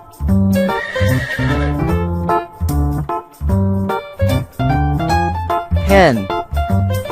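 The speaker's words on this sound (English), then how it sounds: "Horse" A horse whinnies with a rising-then-falling squeal near the end, set among dense, loud, sustained harmonic tones that sound like backing music.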